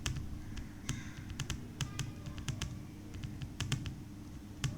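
Steady keystrokes on a computer keyboard, typing out a short chart title in Excel, with crisp individual clicks in an irregular rhythm, fairly quiet and close, no talking.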